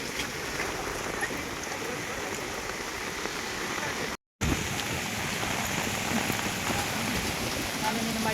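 Steady rain falls continuously, a dense hiss of drops on surfaces with water running, holding at an even level except for a brief dropout midway.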